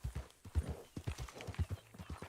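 A horse in the Red Dead Redemption II video game clops its hooves in a quick, uneven rhythm, loud and close, with a faint whinny mixed in.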